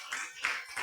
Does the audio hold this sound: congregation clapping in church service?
yes